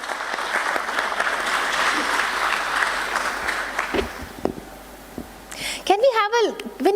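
Steady applause from an audience at a stock exchange listing ceremony fills the first several seconds, then fades into quieter room noise and a voice speaking near the end.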